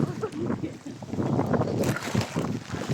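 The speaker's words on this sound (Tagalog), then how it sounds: "Lakas yung hangin." Strong typhoon wind in Occidental Mindoro roars and buffets the microphone in rough, gusty bursts, loud and continuous with no clear voices.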